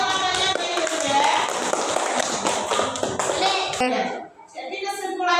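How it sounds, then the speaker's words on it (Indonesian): Children in a primary school classroom clap for their classmates, a dense burst of close hand claps and tapping with children's voices mixed in. The clapping stops abruptly near the end and a few voices follow. "Tepuk tangan buat teman-teman yang sudah."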